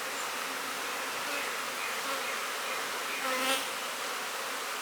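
Honey bees buzz continuously around an open beehive during queen cell grafting, a dense, steady drone of many wings close by, with a few individual bees passing louder near the mic.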